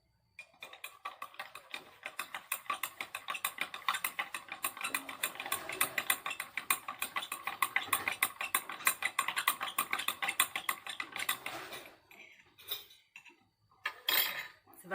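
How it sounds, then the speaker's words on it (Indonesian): A metal spoon scrapes and clinks rapidly around a container while stirring detergent into water, a steady ticking rhythm that lasts about twelve seconds before a few scattered taps. "kemudian diaduk menggunakan sendok."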